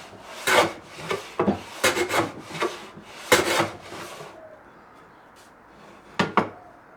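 A hand plane takes strokes across the heel of an acoustic guitar neck, a run of quick rasping wooden shaves in uneven bursts, then a pause and two final short strokes, close up.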